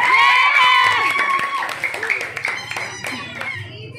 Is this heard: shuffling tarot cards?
no